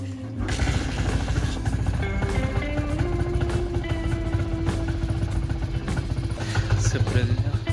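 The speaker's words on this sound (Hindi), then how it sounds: "बाइक को कर लेते हैं स्टार्ट।" A motorcycle engine runs steadily after starting, close and loud, its even drone idling without pause, beside a farm field ahead of crop spraying.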